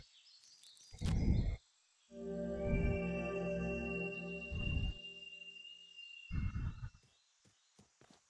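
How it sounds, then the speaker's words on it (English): Crickets chirp in the Shenmue 3 video game, a loud sustained buzzing trill with harmonic layers, interrupted by heavy thudding bursts, with no talk. "Some crickets are huge."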